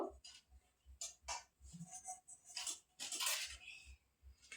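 A greased cake tin for a sponge cake shaken with flour, giving a run of soft rhythmic rattling taps and light metallic knocks close by, with no talk.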